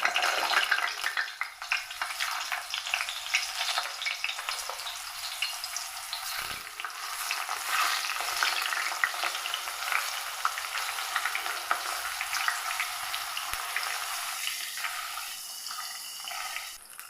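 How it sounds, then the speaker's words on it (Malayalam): Chopped raw mango frying in hot oil for pickle, a steady bright sizzle that runs the whole time, close and fairly loud, with a couple of brief knocks of stirring and no talking. "ഇനി അതേ സെയിം എണ്ണയിലേക്ക് തന്നെ നമ്മൾ അരിഞ്ഞെടുത്ത നമ്മുടെ മാങ്ങ ഇട്ടിട്ട്"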